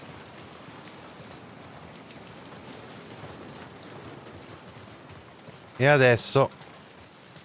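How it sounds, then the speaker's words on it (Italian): Rain falls steadily in The Last of Us Part 2 as an even, close hiss of drops, and a voice speaks briefly near the end. "Stiamo sotto la pioggia."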